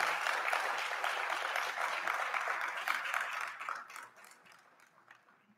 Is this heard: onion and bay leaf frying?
no